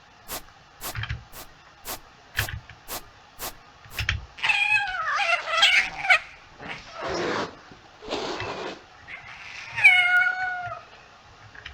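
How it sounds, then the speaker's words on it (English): Angry cats in a video game set in a haunted mental institute let out a run of loud, drawn-out yowling meows and caterwauls, following a series of sharp rhythmic clicks or taps. "Some very angry cats."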